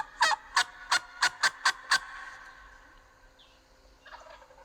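Seven sharp, rapid clucks of a turkey call mimic the cutting of an excited hen, loud and close in a quick uneven burst, then fading into quiet with a couple of faint soft notes near the end.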